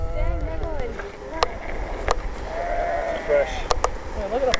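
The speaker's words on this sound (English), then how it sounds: "field full of sheep here." Sheep bleat repeatedly across a field beside the ocean, several animals calling at moderate distance over steady wind and surf noise, with a person talking in between.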